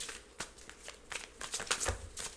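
Tarot cards being shuffled nearby in soft, irregular riffles and slides, with a few sharper flicks and taps near the end, no voices.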